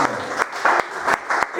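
A church congregation applauds during a Spanish-language sermon, a brief burst of rhythmic clapping with regular pulses that sounds loud and close, with voices mixed in.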